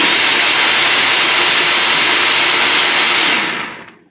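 A kitchen blender pulses a spinach mixture for a wild berry salad, giving one loud, steady whirring roar for about three seconds before cutting off abruptly.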